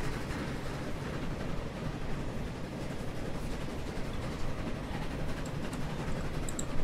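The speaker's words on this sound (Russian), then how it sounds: "Поезд идет абсолютно без пассажиров." A train rolling along the railway in the Transport Fever video game, a continuous dense rumble with rhythmic rattling and faint clicks, steady and fairly loud with no voices.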